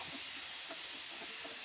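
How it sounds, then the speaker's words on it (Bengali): Steam hisses in a steady, broad rush as a pressure cooker lid is opened on goat liver and chana dal, close and continuous for a brief moment, with faint clinks underneath. "এখন আমি এই প্রেসার কুকারের ঢাকনাটা খুলে নেব।"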